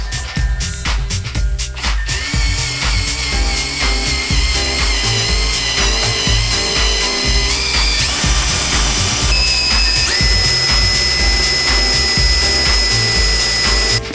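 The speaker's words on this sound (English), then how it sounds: "Right, it's time to start drilling." A power drill whines loudly and steadily while drilling holes in a wall, its pitch rising and falling as it bites into material, running continuously with brief shifts in speed.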